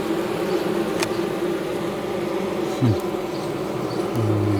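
A colony of hornets with their queen drones inside a bumblebee nest box, a dense, steady insect hum close by that fills the whole stretch, with brief low engine-like tones sliding in near the end.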